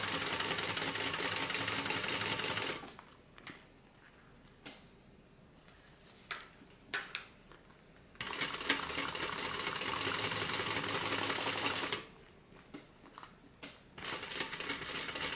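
A sewing machine top stitches a tote bag in two long steady runs, a close buzzing whir, with quiet handling clicks and small knocks in the pause between.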